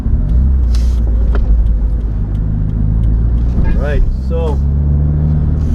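Subaru WRX STI rolling along with a low, steady engine rumble under its cabin noise, while someone talks briefly over it.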